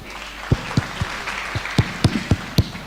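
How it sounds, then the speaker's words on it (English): Crowd applause at a speech-style event, a sparse run of sharp, separate claps popping over a steady hiss of room noise, with no continuous roar of a full audience. "Thank you so much for the round of applause, ladies and gentlemen."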